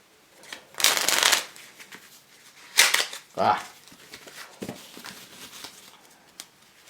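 Close, crisp shuffling of a Virtuoso deck of playing cards with soft card stock, heard as a few distinct riffle bursts followed by quieter handling and light card snaps.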